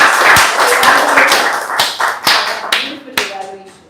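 A Toastmasters meeting audience gives a round of applause, with close, uneven hand claps that thin out into a few scattered claps as the sound fades.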